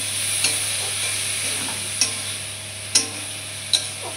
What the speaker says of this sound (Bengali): এখন একটু ভাজা ভাজা হোক